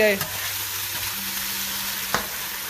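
Tomatoes and onion frying in a pan as they are stirred, a steady loud sizzle with occasional scrapes of the spoon and no talking.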